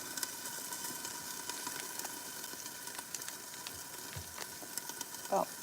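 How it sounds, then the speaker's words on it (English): Butter sizzling in a pan with asparagus, a soft continuous frying hiss with light clicks, fairly quiet, and a brief knock near the end. "I'm gonna put a little bit of butter back in the asparagus"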